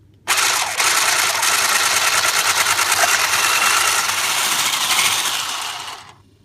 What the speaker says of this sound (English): You're just going to whisk those until they form stiff peaks.